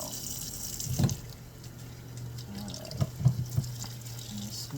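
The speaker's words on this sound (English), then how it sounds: "Make sure the water is at a good temperature." Water runs steadily from a tap, filling for a cat's bath, with a constant close splashing hiss and a few louder knocks and splashes.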